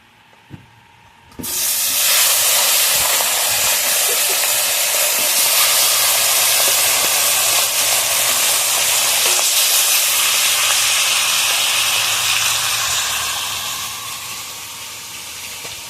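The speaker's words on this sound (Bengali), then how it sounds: "একদম লাল করে কড়া করে ভেজে নিয়েছি।" Black carp frying in hot oil bursts into a loud, close hissing sizzle after a quiet moment. It roars steadily, then eases slightly toward the end, with no voices.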